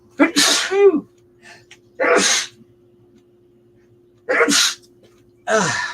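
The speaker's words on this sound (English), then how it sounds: "Oops, I'm going to sneeze." Several loud, close sneezes in a row, each a sharp burst separated by quiet pauses.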